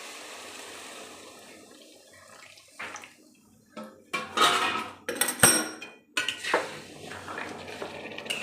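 Hot water poured into a pot of peas comes in uneven splashing bursts with metallic clinks of the pot, starting quiet and growing louder toward the end, with no talk.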